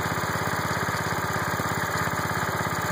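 John Deere 216 lawn tractor engine running after a fuel system repair, a steady, close, loud idle with a fast regular low chugging pulse, smoking a little.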